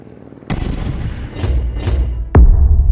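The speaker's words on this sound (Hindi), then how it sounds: "हैंड ग्रेनेड फेंकने लगता है" Hand grenade explosions in an action scene at a stadium, with a heavy boom followed by two duller blasts and then a sharp, loud detonation, each trailing into a rumbling roar, and no talking.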